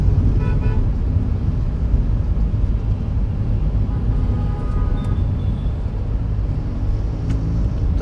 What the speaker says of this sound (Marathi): इथे थोडं सिग्नल्समुळे ट्रॅफिक भेटते